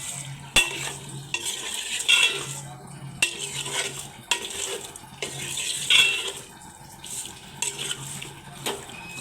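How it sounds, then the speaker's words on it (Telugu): Chicken stirred with salt, turmeric and ginger-garlic paste in oil in a pot: repeated scraping strokes of a metal spoon against the pan, each with a sharp clink, over a soft steady sizzle. "చికెన్ వేసి ఉప్పు పసుపు అల్లం వెల్లుల్లి పేస్ట్ వేసి కలుపుతున్నాను"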